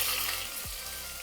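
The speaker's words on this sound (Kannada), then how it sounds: "ಈರುಳ್ಳಿ ಚೆನ್ನಾಗಿ ಫ್ರೈ ಆಗಲಿ ಗೈಸ್" Onions and whole spices with fennel frying in hot oil for Bengaluru-style chicken biryani, a steady close sizzle with a brief scraping stir midway.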